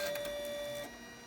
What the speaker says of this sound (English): Then you're going to hit this green button, and it should thread itself.